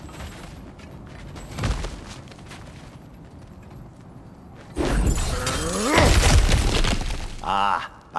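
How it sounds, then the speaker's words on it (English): Objects smashed in the God of War Ragnarök video game: a burst of crashing and breaking near the 1.7-second mark, then a loud, dense run of shattering and crumbling debris from about 5 to 8 seconds, over a steady game ambience. "back to smashing through things for fun and profit"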